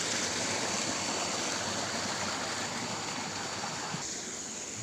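A fast-flowing stream rushes steadily at a fishing spot, a dense, even wash of water noise that is close and continuous with no talk.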